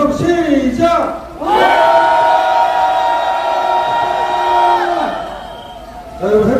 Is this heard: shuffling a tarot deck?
no